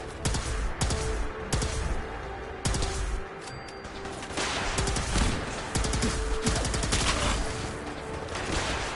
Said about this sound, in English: Someone's shooting at me from over here.